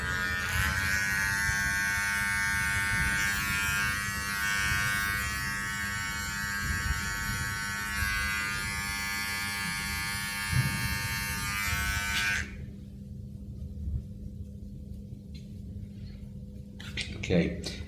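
An electric hair clipper buzzes steadily up close while cutting sideburn hair, then switches off, leaving quiet room sound and faint handling.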